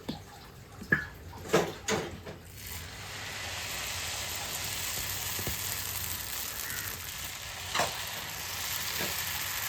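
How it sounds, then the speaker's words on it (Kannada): Dosa batter frying on a hot pan at home, a steady soft sizzle running throughout with a few sharp clatters and taps near the start, fairly close and moderate in level. "ಹಾಗೆಯೇ ಇಲ್ಲಿ ನಾನಿಲ್ಲಿ ದೋಸೆ ಹಾಕೋತಾ ಇದ್ದೀನಿ"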